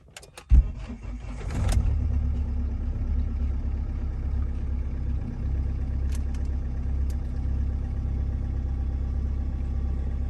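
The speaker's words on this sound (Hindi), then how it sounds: "अब सेल्फ मारते हैं, देखते हैं क्या आता है रिस्पॉन्स।" A diesel car sits cold after a freezing night near Sonmarg, Kashmir, then cranks briefly on the starter and fires, settling into a steady low idle rumble with no talk over it.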